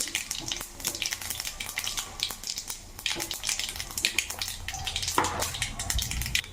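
Mustard seeds, cumin and dried red chillies fry in hot oil with a continuous crackling sizzle and spattering pops, close up, with occasional stirring clinks.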